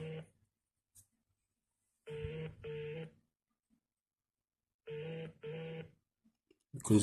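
A telephone rings in two double-burst cycles, each pair of tones separated by long silent gaps, clear and close with no talking over it.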